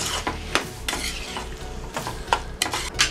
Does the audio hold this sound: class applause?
no